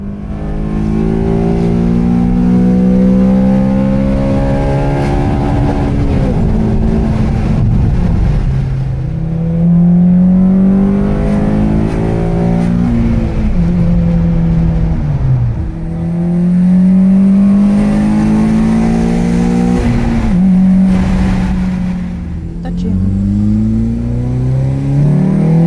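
Honda Civic FN2 fitted with a Tegiwa 3-inch induction kit, driven on a cold engine, accelerating through several gears: loud, close engine note rising in pitch, dropping at each shift, then climbing again.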